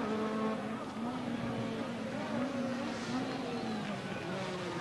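A rally car sets off on the sixteenth special stage of the first leg of the 1995 Madeira Wine Rally, its engine a steady droning roar that rises and falls in pitch across the run, with a faint voice now and then.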